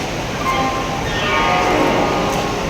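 Station bustle at Howrah railway station, with a steady broadband rumble of trains and crowd noise and a faint clink now and then, holding at one level throughout.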